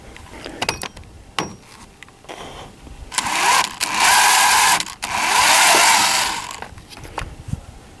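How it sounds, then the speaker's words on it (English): Power drill boring out pop rivets along the rub rail of a Com-Pac 23 sailboat, with short bursts early and then two sustained loud whining runs separated by a brief pause. "Drill out your pop rivets."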